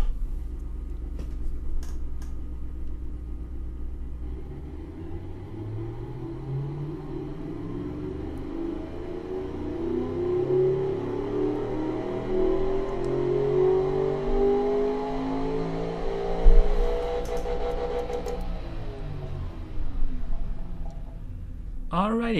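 A 622-horsepower V8 engine in a GT coupe built in the Automation car game, revving up through a long rising sweep and then dropping back to idle. The note is loud and steady and sounds synthesized.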